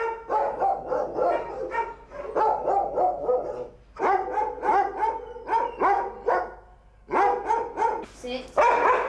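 Several dogs barking in repeated bursts at a dog rescue home, loud and close, with overlapping barks and yips.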